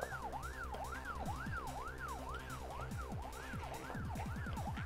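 An ambulance siren wails up and down in steady repeated cycles, faint and distant, with a quicker yelping tone joining near the end.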